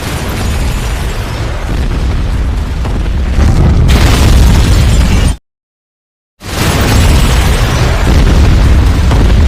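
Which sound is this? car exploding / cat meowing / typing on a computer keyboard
car exploding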